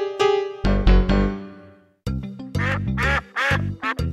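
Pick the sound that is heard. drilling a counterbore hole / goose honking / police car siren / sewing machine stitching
goose honking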